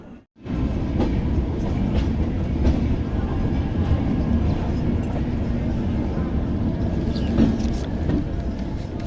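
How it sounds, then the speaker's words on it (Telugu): A passenger train departing Jhansi Junction rumbles steadily throughout, a continuous low roar with faint rhythmic rattling of the carriages, no talk, ending without a break. "డిపార్ట్ అవుతుంది"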